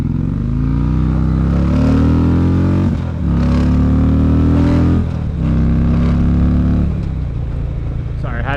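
A car engine revs hard as it pulls away through traffic, loud and close, rising in pitch through several gear changes with brief dips between them.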